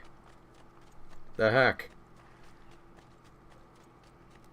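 Horse hooves clip-clopping in the video game Assassin's Creed 2, a faint rhythmic clatter of steps running throughout, briefly covered by a man's short spoken exclamation.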